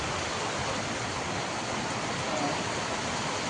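Heavy rain pours down in a steady, dense roar during cool weather, a continuous broadband wash with no breaks and no voices.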